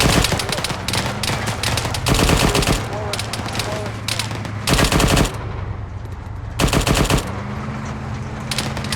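Sustained automatic weapons fire during live-fire training by a Marine Expeditionary Unit law enforcement detachment, dense rapid bursts from several guns overlapping loudly and continuously, with brief pauses and a low engine hum underneath.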